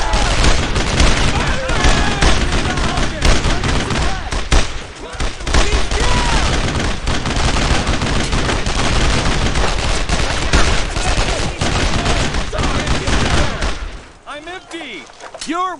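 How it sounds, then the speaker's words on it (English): Heavy machine gun and rifle fire in Brothers in Arms: Road to Hill 30, dense continuous volleys and booms of a World War II firefight, loud and sustained, with shouted voices mixed in, before easing near the end. "Fire on that position! Don't stop firing!"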